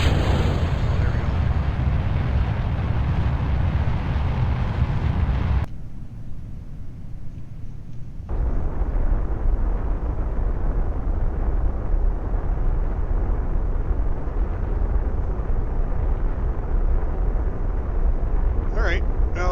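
Rocket engines in the video game Kerbal Space Program give a steady, loud, broadband roar that cuts out for a few seconds and then resumes, holding a continuous rumble.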